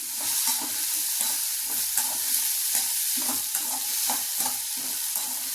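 Chopped pirandai (adamant creeper) sautéing in a hot pan, a steady close sizzle broken by regular scraping stirs roughly every half second, with no voices.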